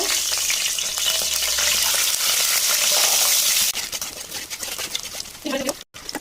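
Eggs frying in hot oil for an egg curry give a loud, dense, continuous sizzle that thins into crackling pops as the frying settles, with no talking.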